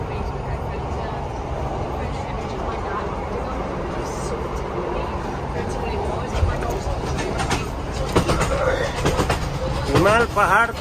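A train running through the mountains of Scotland, with a steady rumbling roar throughout and rattling clicks of the wheels growing near the end, under voices talking.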